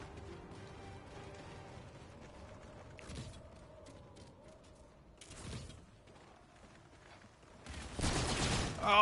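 Short bursts of automatic gunfire from a player's weapon in Call of Duty: Infinite Warfare, crackling between quieter stretches with mechanical clicks and a louder sustained burst at the end.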